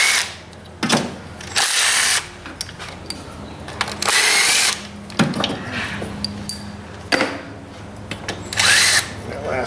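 A power tool spins bolts out of the A/C compressor on a Mitsubishi Outlander in loud, close bursts of whirring, separated by short pauses and a few metallic clinks.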